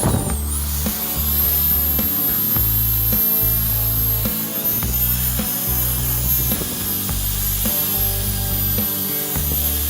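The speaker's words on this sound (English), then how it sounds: "I'm going to sand this spot here so we get a really good ground as well before we start" A sanding tool grinds a metal spot on a 1974 VW Bus seat frame, a loud continuous abrasive whir with rhythmic strokes pulsing through the whole stretch.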